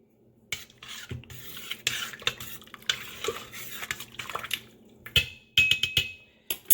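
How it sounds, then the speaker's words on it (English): A spoon stirs milk and yogurt starter inside an Instant Pot, with irregular liquid swishing, clinks and scrapes against the metal inner pot, close up and without talk. "we're gonna add in the milk and we're gonna mix it"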